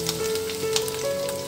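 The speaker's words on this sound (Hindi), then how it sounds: "ऑयल डाला, गर्म हो गया, अब उसमें ये मैं चिकन डाल रही हूँ।" Chicken pieces sizzling in hot oil in a home kitchen, a steady crackling hiss with a sustained tonal hum underneath, close and continuous without talk.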